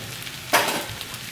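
Chicken fried rice hits butter and chili oil in a hot pan with a sudden, close sizzle that starts partway in and then settles into a softer, steady fry.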